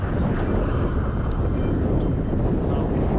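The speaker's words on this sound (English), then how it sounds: "It's really windy, so the audio is gonna be terrible." Strong gusts buffet the microphone beside a pond during winter fishing in a windstorm, a loud, continuous low rumble with roaring turbulence throughout and no clear voices.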